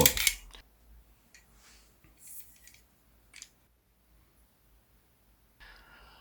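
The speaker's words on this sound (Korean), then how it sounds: "모형탄이 장전된 탄창을 결합합니다." A miniature half-scale full-metal AK-47 model gun is handled as a loaded magazine is fitted, giving a few sharp, quiet metallic clicks and taps separated by near-silence.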